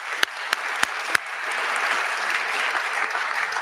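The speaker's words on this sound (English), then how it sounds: "Would you give them a round of applause?" Audience applause at a university freshman convocation, a few sharp isolated claps at first that swell into sustained clapping from a large crowd.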